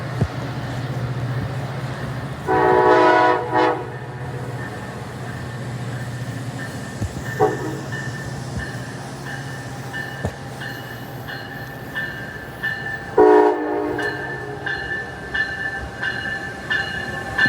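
An Amtrak Avelia Liberty Acela train passes a station platform at New Carrollton with a loud, continuous rumble, broken by several short horn blasts.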